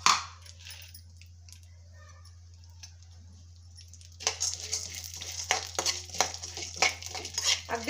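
Pumpkin and sunflower seeds roasting in a spoonful of ghee in a pan, heard up close as a soft low sizzle followed by busier scraping, stirring and clinking of a utensil against the pan, with a steady background hum.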